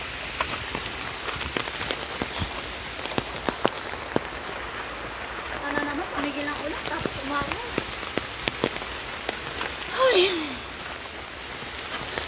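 Rain falls steadily on the Macritchie treetop walk trail in a Singapore forest, an even hiss of drops with scattered louder taps, and a voice speaks faintly under it.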